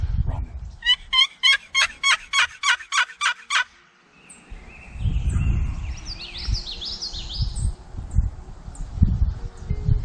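A wild turkey gobbler on a spring hunt in the woods gobbles in a rapid, rattling burst of about a dozen pulses, fairly near and loud. Leaves rustle afterward under faint birdsong.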